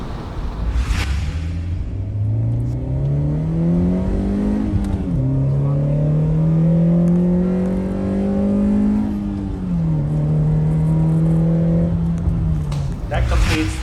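A Honda Fit GE8 engine fitted with an Injen cold air intake revs steadily, its note climbing, dipping briefly, then climbing and holding through a second rise before easing off. It is loud and close, with no talking.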